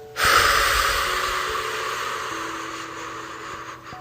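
A long, steady breathwork exhalation, close and breathy, starting abruptly and slowly fading over about four seconds, with no voice over it.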